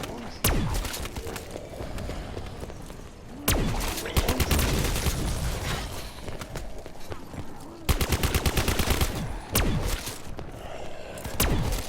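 Bursts of rapid gunfire in Call of Duty: Black Ops 4 Zombies ring out, with sharp single shots and fast automatic volleys in several clusters over a steady background.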